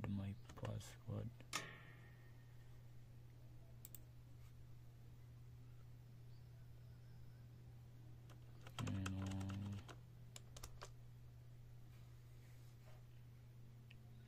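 A computer keyboard clicks out a password in a few short bursts of taps separated by pauses, quiet and close, over a steady electrical hum.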